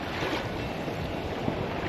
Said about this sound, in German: Ich höre ein paar Wellen, Jungs.